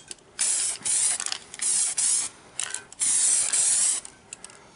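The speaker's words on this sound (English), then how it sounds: "so we're just going to do a light mist." DuraCoat aerosol spray can laying a light mist of gun coating, heard as a series of short hissing bursts of varying length separated by brief pauses, close and fairly loud.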